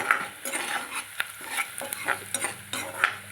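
Tempering for saag sizzles loudly in hot oil while a spoon stirs and scrapes the pan in quick uneven strokes, close up and without talk.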